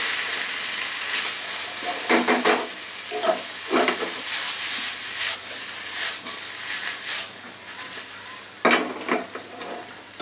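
Spring onions are stirred into a hot chicken and vegetable stir fry, with a continuous sizzle broken by repeated scraping and clattering strokes of a spatula against the pan, loud and close.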